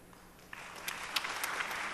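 A congregation at a Wednesday church service dedicated to a North Korea mission department claps for a volunteer being introduced. The applause begins suddenly and stays fairly faint, a steady patter of many hands that continues to the end.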